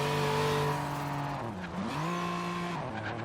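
A slammed GMC Syclone in Forza Horizon 3 revs hard as its turbo spools up, the engine tone sweeping down and then climbing again, loud and continuous with some tire noise.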